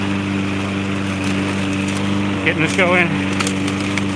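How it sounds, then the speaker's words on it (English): A loud lawn mower engine drones steadily and close while mowing a yard, with a constant tonal hum and a voice speaking briefly over it. "Probably can't hear me because my lawnmower is loud"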